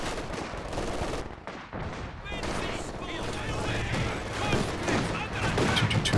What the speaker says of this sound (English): gets pinned though by the machine gun